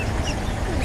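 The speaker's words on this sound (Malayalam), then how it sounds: "പിന്നെ നാടൻ താറാവ്, കുട്ടനാടൻ താറാവ്." Kuttanad native ducks quacking at a pet shop, a dense, rough chorus of nearby calls filling the whole moment over steady background noise.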